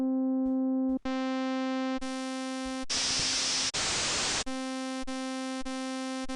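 An FM synthesizer tone starts as a pure sine and turns buzzier and brighter as feedback rises, breaking into a noisy hiss, then settling back to a steady buzz.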